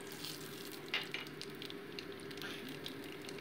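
Nigella seeds tempering in hot oil left from frying bhola fish give a soft, steady sizzle with a few faint crackles and a brief scrape, close but quiet, with no talk.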